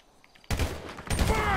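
After a near-silent moment, two loud, sharp bursts of gunfire in the video game GTA 5 hit a petrol trail, the second trailing into a ringing crackle.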